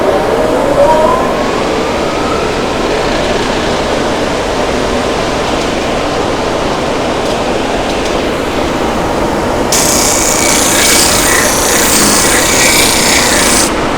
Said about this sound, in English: we're going to use the disc sander to sand to the line